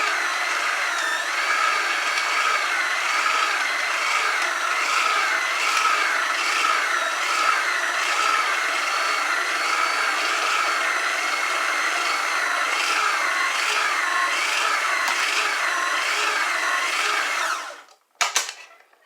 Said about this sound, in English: Here's the stand mixer. I'm going to turn the dial.